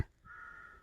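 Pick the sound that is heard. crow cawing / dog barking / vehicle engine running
crow cawing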